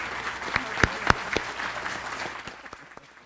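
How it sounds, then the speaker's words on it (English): Scattered, fairly quiet applause for a speaker at an annual community celebration, a few sharp individual claps standing out over a thin wash of clapping that fades toward the end. "So let's give Melinda a big round of applause"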